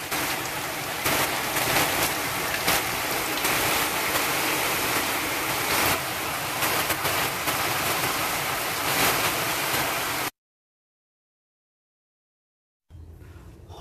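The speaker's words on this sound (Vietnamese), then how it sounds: "Trời đang mưa." Steady broadband rain hiss falls on a roof during tile and gutter repair work, loud and continuous for about ten seconds before cutting out, then resuming faintly at the end.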